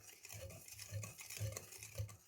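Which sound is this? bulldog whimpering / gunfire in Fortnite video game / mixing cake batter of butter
mixing cake batter of butter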